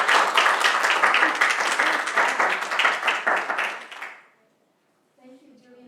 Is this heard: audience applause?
yes